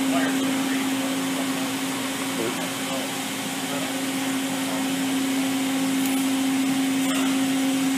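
Makino A77 CNC horizontal machining center spindle spinning at about 1,000 RPM, giving a loud, constant mechanical whir with a steady hum and no breaks.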